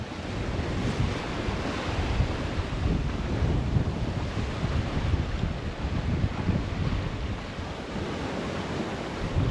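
Steady wind rushing over a sailboat under sail on the open Atlantic, about 20 knots from behind, with continuous broadband roar and wash of waves along the hull, no voices.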